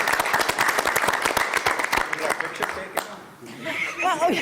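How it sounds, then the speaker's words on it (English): Audience applause at a school board meeting, a small crowd clapping briskly and then tapering off, with chuckles and voices talking as the clapping fades. "Should we give these guys a round of applause?"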